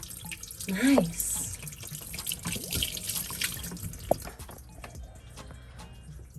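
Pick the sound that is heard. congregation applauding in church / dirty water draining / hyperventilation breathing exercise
dirty water draining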